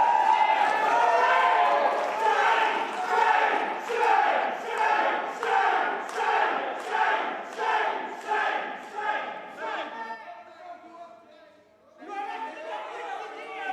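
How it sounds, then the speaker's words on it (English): A crowd at a UK general election declaration cheers and chants in loud rhythmic bursts, repeated roughly once a second. The noise fades near the end, then swells again with mixed voices and protest. "Some cheering."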